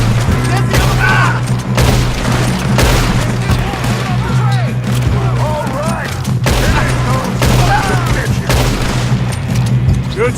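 Gunfire in the Red Dead Redemption 2 video game brings repeated loud booming shots and crashes over a constant low hum, with voices talking in between.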